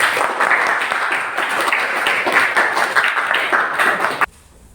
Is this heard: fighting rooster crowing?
no